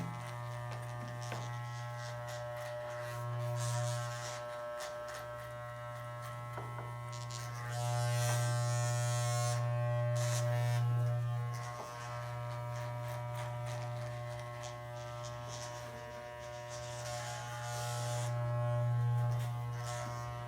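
Electric hair clippers buzz steadily and close up while cutting a low fade, a continuous humming drone that swells and dips in loudness as the blade moves over the head, with no talking.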